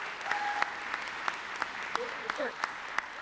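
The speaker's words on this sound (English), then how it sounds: "How about a round of applause for that?" A crowd at the launch party for an art tour through Union Center gives a round of applause, clapping spread across the audience with a few sharp individual claps, and brief whistle-like tones and voices faintly mixed in.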